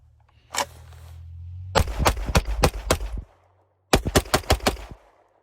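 A fast string of gunshots fired at a target: two volleys of sharp, loud reports in quick succession, one long burst then a shorter one, after a single opening shot.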